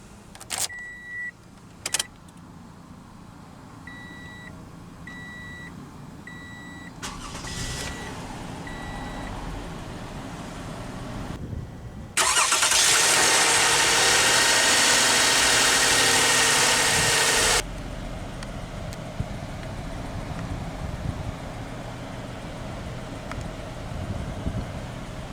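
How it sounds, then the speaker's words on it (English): A 2015 Toyota Sienna LE minivan: chimes and clicks sound inside the cabin, then the engine cranks and catches into a louder burst before settling to a steady, low idle heard from inside the vehicle. "let's go ahead and start the engine."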